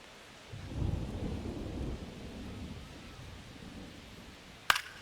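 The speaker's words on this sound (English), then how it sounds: "It's thundering outside." A low rumble of thunder rolls outside a covered baseball stadium, swelling then fading over a couple of seconds before a brief sharp crack near the end.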